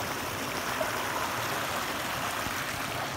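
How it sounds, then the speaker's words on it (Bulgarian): A small stream, a little creek holding small trout, flows with a steady, soft, even babble throughout and no voices. "Ами това е малката рекичка."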